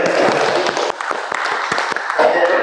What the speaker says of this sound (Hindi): एक ताली तो बजाइए।